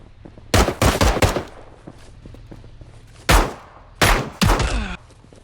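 Police roleplay video game gunfire: several sharp bursts of rapid shots in two clusters, loud and close, with a little background noise between them and no talk over the shots.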